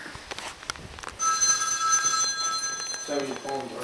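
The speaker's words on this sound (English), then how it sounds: "Hey, phone ring." A mobile phone ringtone starts up close by and plays as a steady electronic melody while a voice breaks in at the end.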